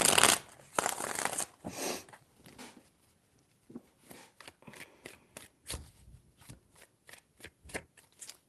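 Tarot cards being shuffled by hand, a dense riffling burst up front followed by a run of crisp separate card snaps and slides, close and fairly quiet, with no talking.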